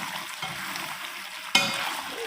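Chicken karahi is roasted in a pan, giving a continuous moderate sizzle with one sharper burst of hissing partway through and no talking.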